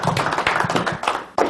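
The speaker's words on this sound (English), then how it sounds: "Give her a big round of applause." A brief burst of clapping from a small audience at a speaker training session, uneven and fairly close, with individual claps audible and a final sharp cluster near the end.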